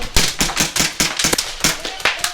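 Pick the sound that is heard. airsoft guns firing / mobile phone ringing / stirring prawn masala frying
airsoft guns firing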